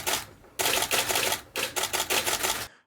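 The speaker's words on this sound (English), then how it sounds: "Speaking of loud shutter sounds," A camera shutter fires in rapid bursts, a fast run of crisp mechanical clicks in two clusters separated by a brief pause. It is close and alone.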